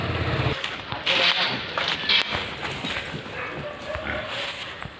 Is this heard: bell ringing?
no